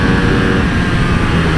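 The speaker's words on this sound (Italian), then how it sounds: "Uscita di curva, come spinge sto motore, incredibile" A Ducati Streetfighter V2 motorcycle engine accelerating out of a curve, a loud rough low-pitched roar with dense pulsing beats under heavy wind rush, close and continuous.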